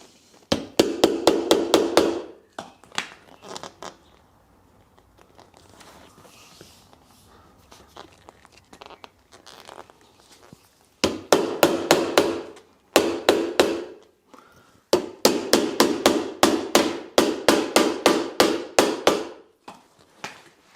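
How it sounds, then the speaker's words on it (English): Bursts of rapid, loud hammer strikes on metal during a Land Rover Defender seat retrim, several quick volleys separated by pauses with quieter handling noise between them. "And you need a hammer."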